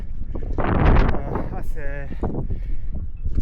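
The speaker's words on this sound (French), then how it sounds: "Je le répète, il y a du vent." Strong gusts buffet the microphone in a loud, rumbling roar while someone speaks over the blustery noise during a run.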